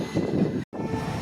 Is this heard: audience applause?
no